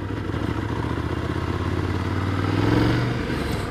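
A Ducati Scrambler 800 Icon motorcycle engine on the road while the rider works through the gears, a steady close throbbing drone that swells slightly toward the end amid wind noise.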